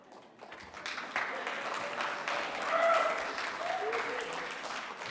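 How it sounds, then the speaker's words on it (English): Church congregation applauding after a volunteer brings a ladder on stage, moderate clapping that swells midway with a few voices calling out over it. "People will really applaud at anything, man."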